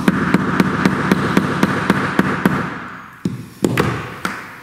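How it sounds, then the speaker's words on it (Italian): Rubber mallet tapping a bolt set on a rivet to seat it in an oxygen torch nozzle being converted to compressed air, a steady run of about a dozen close, dull knocks followed by a few louder, spaced blows. "con un martello gommato diamo qualche colpo"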